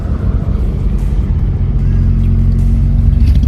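A car's engine strains with a heavy, steady low drone while climbing at high altitude on the way to Dalhousie, heard from inside the cabin with the windows open and wind noise flickering on top.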